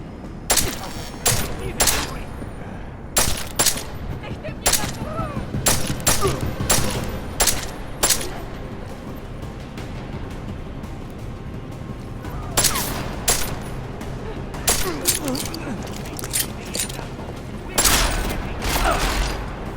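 Gunfire erupts in repeated bursts and single sharp shots in Deus Ex: Mankind Divided, set in Prague, loud and close, clustered in volleys with gaps of game ambience and brief background voices between them.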